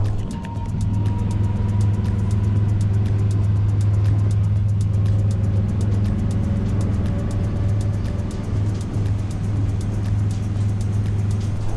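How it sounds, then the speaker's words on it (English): Transport for Wales Class 230 train engines under full acceleration give a steady, loud, low droning rumble with a faint rattle, heard from inside the train for about twelve seconds without talk. "I think the driver's on full acceleration now. The engines are probably about as loud as they're going to be."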